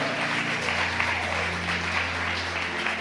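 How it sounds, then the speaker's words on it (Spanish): Church congregation applauding the Lord during a Spanish-language sermon, a steady, moderate wash of clapping lasting a few seconds over a low sustained hum, with no speech on top. "un aplauso al Señor"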